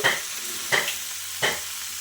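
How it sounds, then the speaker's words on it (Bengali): Ash gourd fries in a pan: a soft steady sizzle broken by three short spatula scrapes at even intervals, close and fairly loud, with no voices. "আমি চাল কুমড়োটা দেওয়ার পরে কিছুক্ষণ একটু ভেজে নেব"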